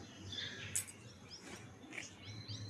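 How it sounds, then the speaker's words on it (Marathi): A house sparrow chirps outside in the early morning, with a few faint, scattered tweets over a quiet indoor background. "चिमणी ओरडते बाहेर."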